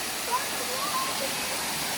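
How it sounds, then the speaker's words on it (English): Routin Linn, a small pretty waterfall in Northumberland, gives a steady broadband rush of falling water throughout, with faint voices in the background. "Nice little pretty falls,"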